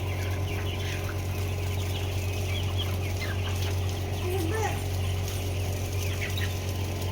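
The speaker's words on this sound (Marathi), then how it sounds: "हे बघा फ्रेंड्स, मामाची पोल्ट्री. सगळ्या कोंबड्याच आहेत." Chickens clucking across a poultry farm at dusk, a steady close chorus of hens with scattered calls over a constant low hum, no talking.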